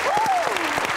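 A studio audience on a Hindi comedy show applauds as a guest singer is introduced. The clapping is brief and steady, with a voice gliding over it.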